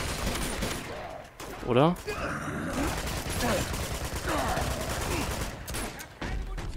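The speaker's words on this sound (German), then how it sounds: "Jetzt schießen die Eumel auf mich" Enemy gunfire in Uncharted 2: Among Thieves, a steady crackle of shots and bursts in a game firefight, with someone talking over it.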